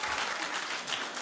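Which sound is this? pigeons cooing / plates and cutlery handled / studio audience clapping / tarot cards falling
studio audience clapping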